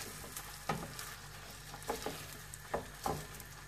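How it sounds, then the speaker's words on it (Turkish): Rice stirred and toasted in butter in a pan, making a soft steady sizzle with several light scraping, clicking strokes of a utensil at irregular intervals, faint and close. "Karıştıra karıştıra kavurma işlemimizi çok güzel bir şekilde yapalım."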